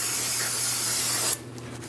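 Cleaner sprays onto the wheel bearing hub mating surface of a 2008-2016 Chrysler Town & Country in one continuous, close, loud hiss lasting over a second before cutting off abruptly.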